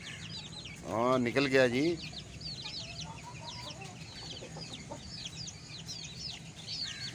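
An Aseel rooster gives a loud burst of clucking early on, then lower scattered clucks follow among other birds' chirps, with someone speaking briefly.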